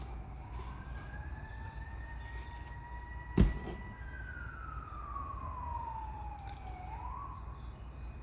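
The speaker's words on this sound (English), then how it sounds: "Sirens have been going for a while." Distant sirens outside wail and sweep in pitch over a constant low rumble, with a single sharp knock nearby partway through.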